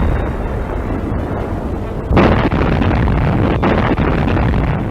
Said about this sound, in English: Shells from the doomed Nazi battleship continue to burst.